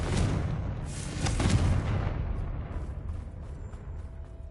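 Bombarda and Confringo spells explode in Hogwarts Legacy, rolling booms and crackling blasts stacked together in the first two seconds, then decaying into a rumbling tail with scattered faint pops.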